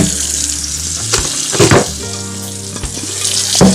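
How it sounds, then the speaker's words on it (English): Water is poured into a blender with coconut while cooking Jamaican rice and peas, a splashing, running stream in a few uneven bursts, close by and without talk. "So you're gonna add some water."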